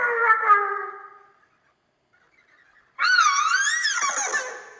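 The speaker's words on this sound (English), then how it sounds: "You can turn the pitch up, so that'll make the voices sound a little bit more squeaky and higher." A recorded voice raised in pitch with a GarageBand effect, heard as squeaky, chirpy, high vocal sounds in two bursts separated by a short silence.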